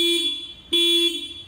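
Horn of a TVS Ntorq 125 Race XP scooter sounds in two loud, steady blasts, the second starting right after a brief gap, close by and alone.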